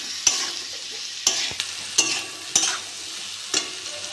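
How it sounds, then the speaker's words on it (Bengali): Pumpkin and potato with turmeric and salt fry in a pan under a steady sizzle, broken by about five sharp scraping strokes of stirring spaced a second or so apart. "ভালো করে ভেজে নেবো।"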